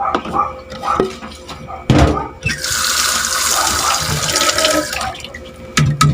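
Water running from a kitchen tap into a container while cooking banana heart in coconut milk, a loud steady splashing flow of several seconds framed by clunks of handling before and after.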